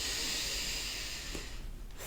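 A single audible inhale taken during a yoga flow, a soft airy breath close to the mic, steady and unhurried for about two seconds.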